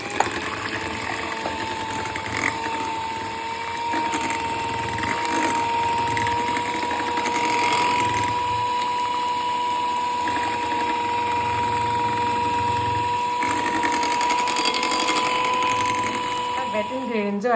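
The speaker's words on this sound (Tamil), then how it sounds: "இது கூட ஆட் பண்ணி நல்லா பீட் பண்ணணும்." An electric hand mixer beats cake batter for a simple tea cake or chocolate cake, giving a steady, continuous motor whine at moderate loudness that runs through the whole stretch with a little rattle in the bowl.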